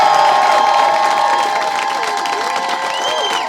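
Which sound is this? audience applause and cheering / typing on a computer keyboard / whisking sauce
audience applause and cheering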